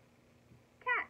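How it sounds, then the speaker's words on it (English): A single short cat meow near the end, clear and moderately loud over a quiet, faintly humming background. "cat."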